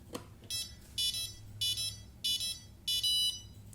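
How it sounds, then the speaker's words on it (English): A series of short, high-pitched electronic beeps from an F450 quadcopter's speaker on arming repeats in a quick rhythm, fairly faint, with a small click at the start and no talking. "you get the speaker beeps when you arm it like this"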